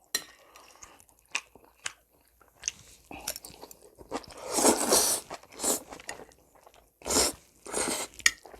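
Mukbang eating of chapaguri noodles with beef: close, wet chewing and crunchy bites, with irregular soft clicks building into louder slurping and chomping bursts, no talking.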